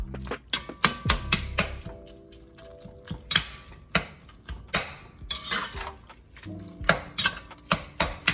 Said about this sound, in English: Beef is cooking and it is losing its chunkiness, so because I keep cutting it up with the spatula.